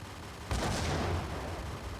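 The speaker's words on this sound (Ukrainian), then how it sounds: "Вибух є." A sudden booming explosion in the video game Max Payne erupts and rolls away into a rumbling tail, loud and close, with no talking.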